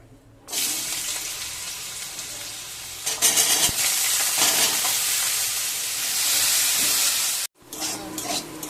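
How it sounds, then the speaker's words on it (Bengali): A loud, steady sizzle of small cut potatoes frying in hot oil, with a brief clatter of stirring partway through before it cuts off. "আলুটা আমি ভেজে নেবো ভালো করে।"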